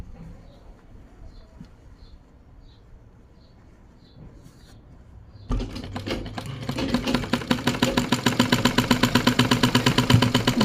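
A sewing machine starts partway through, top stitching ladies' ghoti pants with a rapid, loud, even mechanical rattle after a quiet stretch broken by faint bird chirps.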